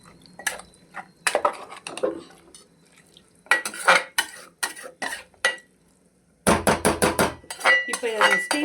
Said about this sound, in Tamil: இப்போ நான் பைத்தம்பருப்பு ஊற வச்சுருக்கேன், இதை அப்படியே இதில் போட்டுடலாங்க.